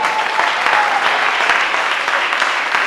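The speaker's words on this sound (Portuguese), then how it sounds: "Pode dar uma salva de palmas para Jesus" Loud, sustained applause rises from a church congregation during a sermon, many hands clapping together in a thick, continuous roar without pause.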